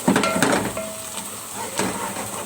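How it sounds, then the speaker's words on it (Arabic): Onions fry in a pot as a wooden spoon stirs them, giving a steady close sizzle with soft scraping and light knocks against the pot. "هفضل اقلب كده بمعلقه خشب او اي معلقه عندي"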